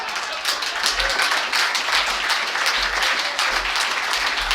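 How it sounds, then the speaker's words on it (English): An audience applauds for a group of speakers at an evening talk event, steady dense clapping filling the room from start to finish. "let's give another round of applause for all our speakers tonight"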